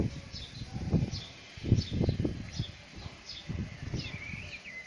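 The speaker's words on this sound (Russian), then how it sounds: "Птички поют" Small birds chirping outside a balcony overlooking greenery and the sea, with faint, repeated high tweets at a distance over soft low rustling and handling noise.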